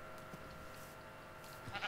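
Soft, distant sheep bleats in Minecraft rise over a steady hum of background noise, with a couple of faint bleats near the end.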